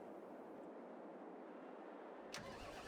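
A Voltra tractor engine in the farming game Terralife turns over and catches with a sudden burst near the end, after a steady low rumble of background noise; no talking.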